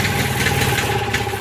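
A 7000 watt Kohler generator mounted in a bus runs poorly with no load and a choke fault, a steady, close, loud engine drone with a faint uneven knock throughout.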